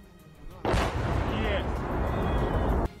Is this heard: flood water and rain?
no